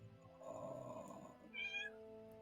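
A cat gives one short, quiet meow near the end, preceded by a soft murmur of low sound and faint background tones.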